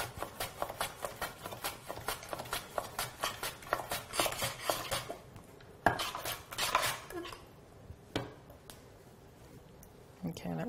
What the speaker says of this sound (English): just slice it finely with your knife